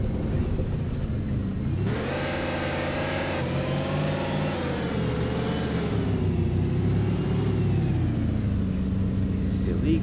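A V12 car engine in the bus driving game OMSI 2 revs up sharply and holds a strong, steady harmonic drone, rising and easing in pitch over several seconds beneath someone talking.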